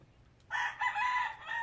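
Farmyard chickens near a spot where grain is spread out to dry crow and cluck loudly, starting after a brief quiet moment and carrying on in a steady, close run with no talking.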